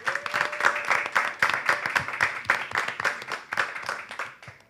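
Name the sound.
audience clapping for quiz contestants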